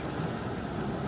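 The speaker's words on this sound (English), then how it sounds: "So this storm is crazy." Heavy rain from a thunderstorm in Key West, Florida pouring steadily with a deep rumble of thunder underneath, a dense continuous roar with no voices.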